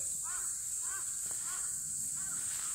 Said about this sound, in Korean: 까마귀들 엄청 크다, 여기 까마귀는.